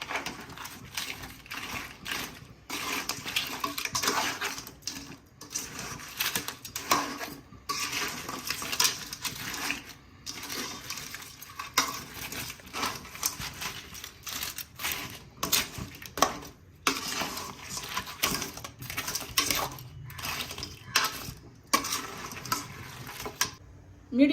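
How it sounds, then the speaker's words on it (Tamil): Crab being stirred into masala in a cooking pan, with repeated scraping and clinking of a utensil against the metal in an irregular rhythm, close and moderately loud, with no talking. "இப்போ மசாலா கூட நண்டை மிக்ஸ் பண்ணிக்கலாம்."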